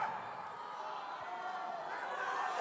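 A huge strongman competition crowd of around 11,000 people, many of them Icelandic, roars in a broad, steady wash of noise that holds at a constant level throughout, with no single voice standing out.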